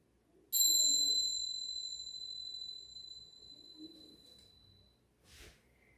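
A single clear bell, struck once, rings out with a bright, pure tone that slowly fades over several seconds in a quiet room, followed by a soft rustle.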